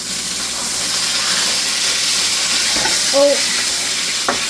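A burger with onions sizzling on a hot cooking surface, a steady loud hiss throughout, a spatula scrape and flip clatter near the end, and a brief exclamation from a voice.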